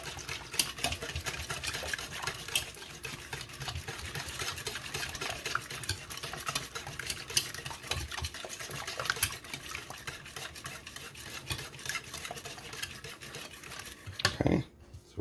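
Heavy whipping cream is stirred into batter with steady, soft sloshing and scraping strokes at close range, a faint mixer-like hum underneath and a voice talking throughout.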